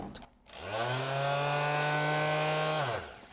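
A steady, droning mechanical buzz with a strong hum from a Parkside electric sander, running without sandpaper, starts abruptly, holds evenly for about two seconds, then cuts off, vibrating close by.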